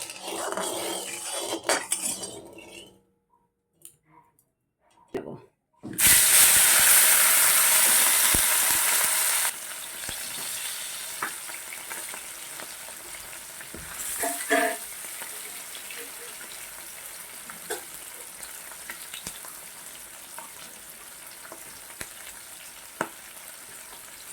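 Fish frying in a little oil in a brand-new wok that was sprinkled with salt, a bright sizzling burst that settles into a steady low crackle with occasional utensil clinks, close by and with no talk.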